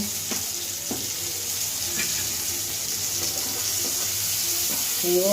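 Chopped tomatoes frying in a little oil in a pan for coriander chutney, a steady soft sizzle with a few light clicks of stirring utensils against the pan.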